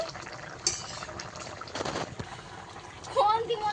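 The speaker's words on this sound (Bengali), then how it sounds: "এবারে কিছুক্ষণ ফুটিয়ে নেব মাছ দিয়ে।" Hilsa fish curry with taro simmering in a pot, soft bubbling and liquid gurgles under a woman's speech, with a few clinks of a utensil.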